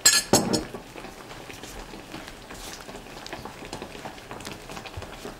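Tapioca starch dough mixed with pandan leaf water using a spoon in a bowl, starting with two sharp clinks of the spoon on the bowl, then soft continuous scraping and stirring close by.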